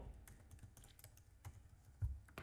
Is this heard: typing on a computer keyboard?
yes